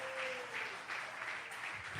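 Applause from a church congregation during a Portuguese-language sermon, a soft, continuous patter of many hands clapping at moderate distance, with a brief tone and faint voices mixed in.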